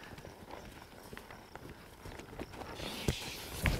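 A horse walks during colt-starting groundwork in a round pen, its hooves giving soft, uneven clip-clops that grow somewhat louder toward the end, with a few sharper knocks in the last second.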